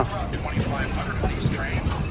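Shay geared steam locomotive on the Yosemite Mountain Sugar Pine Railway, heard as a steady rumble of rolling railcars with a faint rhythmic clatter and mechanical noise, while voices talk over it throughout.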